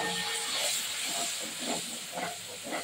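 Water poured into a hot pan of cooking prawn masala, a loud, close hissing burst of steam that keeps bubbling and spitting in short sputters as it settles.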